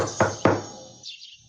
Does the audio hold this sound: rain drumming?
no